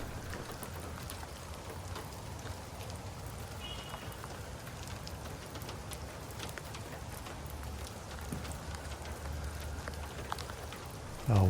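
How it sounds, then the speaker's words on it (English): Steady rain falls in a redwood forest near Arcata, Northern California, with a soft, even patter and scattered drops, faint and continuous. "Woke up to a little bit of a rainy day here, kind of unexpected."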